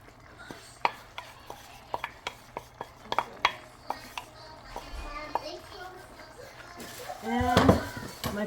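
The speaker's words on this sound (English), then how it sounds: "And I'll be adding my carrots that I've shredded." Shredded carrots go into a shepherd's pie pan, with a string of sharp, close utensil taps and scrapes against the pan at an irregular rhythm, followed by a voice speaking near the end.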